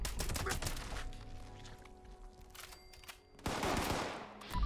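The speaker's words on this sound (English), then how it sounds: "I chose the combat rifle" Combat rifle fire from the video game Fallout 76 rattles out in rapid automatic bursts, breaks off briefly, then resumes with loud shots.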